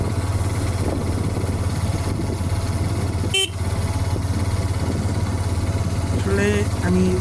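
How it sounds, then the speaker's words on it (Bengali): A Hero Xtreme 125R motorcycle on the move, its engine a steady, close drone over constant road and wind rush, with a short honk-like tone near the end. "আমি যে বাইকটা দিয়ে রাইড করছি, এই বাইকটার নাম হলো হিরো এক্সট্রিম 125R"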